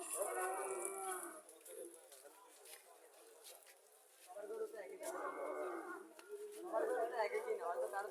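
A native Bangladeshi cow with calves at a livestock market in Cumilla moos in loud, drawn-out lows, with bursts around the start and again in the second half, while people talk nearby.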